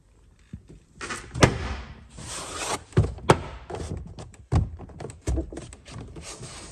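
Plastic door card on a Vauxhall Corsa D front door being pressed and knocked into place: a series of sharp thunks and taps with rustling in between, close and fairly quiet, no talk.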